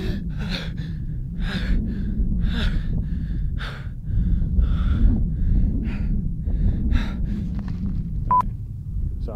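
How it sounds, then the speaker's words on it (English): A person repeatedly gasps for air during a behind-the-scenes film shoot, giving a series of close, sharp breathy intakes roughly every second over a low background hum. "Do more of like a gasp for air."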